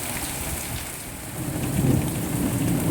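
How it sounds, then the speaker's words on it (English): Hail and sleet mixed with heavy rain pour down steadily near a garden pond, a dense continuous hiss of drops pattering on surfaces that swells slightly louder toward the end. "This is a bit more than rain. There's hail, sleet."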